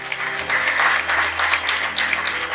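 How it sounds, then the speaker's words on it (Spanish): A church congregation applauds during a sermon, a brief burst of loud, dense clapping that carries evenly throughout. "Denle un fuerte aplauso a Dios."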